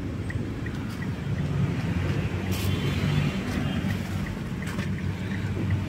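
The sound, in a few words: Mitsubishi Xpander engine running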